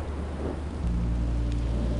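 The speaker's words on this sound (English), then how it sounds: "Rain is better than monsters." Steady rain with a low rumble of thunder from the Minecraft Story Mode video game, a continuous wash of noise that deepens and swells partway through, heard alone without voices.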